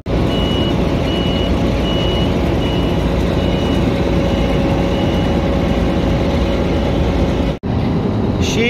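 Reversing beeps from a Volvo FH12 truck pulling a 35-ton trailer during harvest work, a steady repeating tone over a loud continuous engine rumble that cuts off abruptly near the end.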